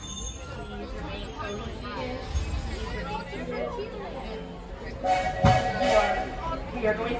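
The Walt Disney World Railroad train at Magic Kingdom rumbles along during a ride, with a steady low mechanical drone under continuous crowd chatter, a passing announcement voice, and a louder clunk near the end.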